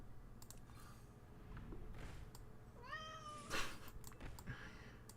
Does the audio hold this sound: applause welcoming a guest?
no